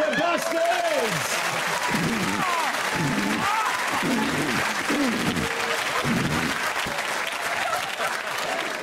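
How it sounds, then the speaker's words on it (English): Studio audience at a British comedy panel show applauding and cheering loudly and continuously, with voices speaking and laughing over the sustained clapping. "give him a round of applause, eh?"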